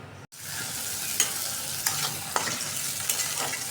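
Hilsa fish curry frying in a pan, a steady broadband sizzle with a few faint utensil clicks and scrapes, close and continuous, after a brief dropout at the start.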